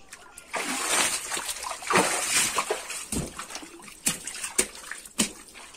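Water gushes and splashes into a tub being filled for a child's bath, a close, uneven rush with sloshing surges and a few sharp splatters toward the end.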